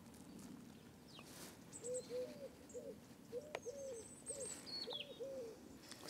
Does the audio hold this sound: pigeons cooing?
yes